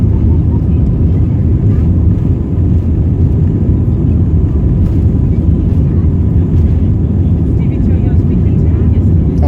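An airplane taking off roars with loud, steady engine and rushing noise that holds unbroken from start to finish.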